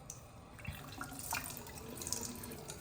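Water from a tap runs and splashes as the mop pad of a Proscenic 850T robot vacuum is rinsed, a close, steady gush with irregular drips and splatters.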